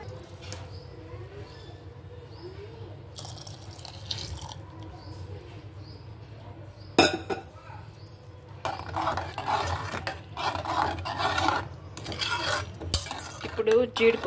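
Quiet kitchen sounds of boiled milk going into a pan of payasam, with soft pouring, stirring and sharp metal utensil clinks and knocks growing busier toward the end.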